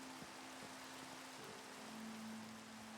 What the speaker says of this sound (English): I hate rain when doing mine colonies because you guys just stop.